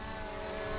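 Hubsan Zino drone flying back and landing, its propellers a steady, loud broadband whine and buzz that stays constant throughout with no one talking.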